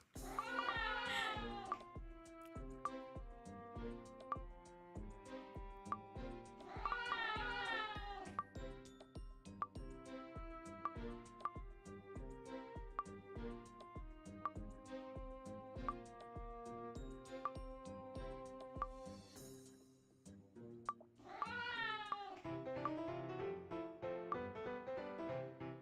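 Cats meow in the video game Obey Me! Nightbringer, a few drawn-out mewing cries rising over a steady, rhythmic musical backdrop that runs throughout.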